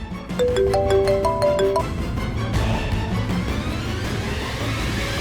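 A phone ringtone plays a bright, repeating electronic melody for a couple of seconds, then fades into steady background noise.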